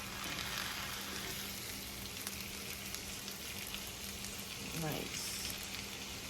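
Stuffed chicken breast filled with goat cheese sears in a hot pan with a steady, dense sizzle throughout, close and even, and a voice briefly speaks over it.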